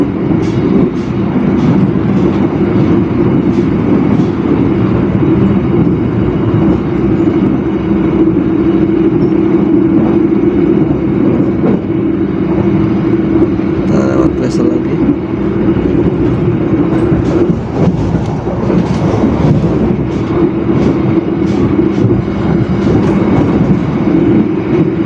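Loud, constant rumble inside the Argo Parahyangan passenger train as it passes through WSL, with steady wheel-on-rail roar and occasional clicks and rattles throughout, fairly noisy and with no voices.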